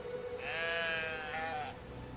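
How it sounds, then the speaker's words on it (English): A single sheep bleats in the video game Brothers, one wavering, drawn-out cry with a slight break near its end, clear and close against a quiet background. "If you pick up one sheep and you start to go around like this, you have to keep going around."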